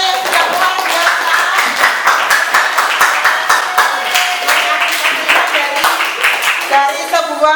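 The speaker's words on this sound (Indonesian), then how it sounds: "Tepuk tangan untuk semuanya yang sudah luar biasa." Students clapping in a classroom at a junior high school in Rogojampi, loud and close, a rhythmic, sharply articulated clapping that runs steadily for several seconds, with some voices heard underneath.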